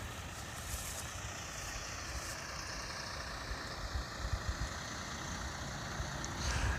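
A truck engine idles nearby in Sheridan, Wyoming, giving a continuous low, throbbing rumble with a broad hiss on top and a few small bumps toward the end.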